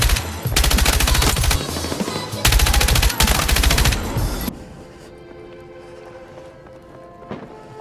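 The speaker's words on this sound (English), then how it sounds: "I'm probably gonna call this my tracking gun because it shoots fast enough" Rapid automatic gunfire from a fast-shooting weapon in a multiplayer shooter game, loud dense bursts in two strings separated by a short gap, then giving way to quieter game ambience and faint music.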